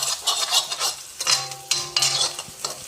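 Onion with ginger-garlic paste sautéing in a pan for a lunch-box dish, with a spoon scraping and stirring in bursts and clinks of utensil against metal over a faint sizzle, close by, no talk.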